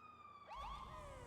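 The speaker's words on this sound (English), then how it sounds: "Does the siren sometimes randomly go off?" An ambulance siren wails inside the GTA roleplay game, a loud close electronic sweep that bends up and down in pitch and cuts in abruptly partway through, alone with no speech.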